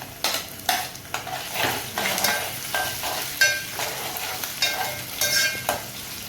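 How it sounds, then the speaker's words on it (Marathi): Tomatoes tossed into onions browning in a pan for a Agri-style rasa curry, stirred with steady close sizzling and repeated scraping strokes of a spoon against the pan. "कांदा थोडासा ब्राऊन करायचं आहे त्याच्यानंतर टॅमॅटो टाकूया आपण"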